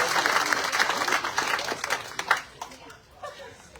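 Audience applause at a French municipal campaign event introducing a candidate's running mates. It starts full and busy, then thins into scattered claps and dies away after about two and a half seconds, with some murmuring underneath.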